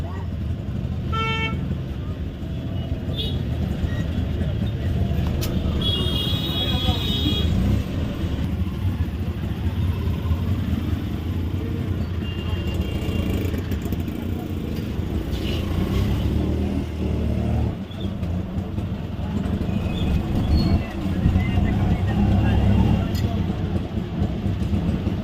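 Busy road traffic with engines, a rumble of passing vehicles and bursts of horn honking, heard close and continuous while people talk.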